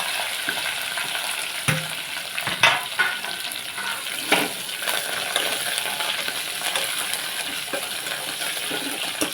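Green chillies and curry leaves sizzling in hot tempering oil for a chana dal and coconut curry, a steady close crackle with a few sharp clinks and stirring knocks.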